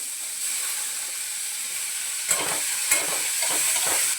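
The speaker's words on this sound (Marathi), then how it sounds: "कांदा टमाटा दोन्ही पण आता चांगलं परतून घेते" Onion and tomato for paneer bhurji sauté in a pan with a continuous close hiss of frying, broken by a few brief scraping knocks of stirring; no talk.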